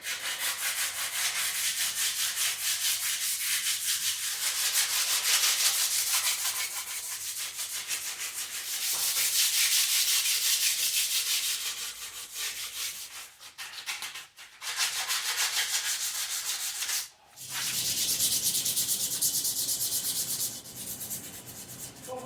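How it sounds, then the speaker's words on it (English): Steady rhythmic scratching of sandpaper rubbed by hand across a vehicle roof surface, continuing for a long stretch with a few short pauses. "I'm gonna do a little bit of sanding."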